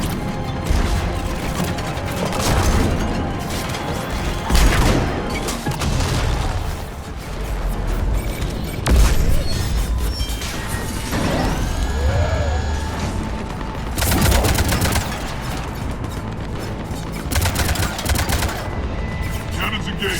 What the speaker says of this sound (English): Cannons engaged.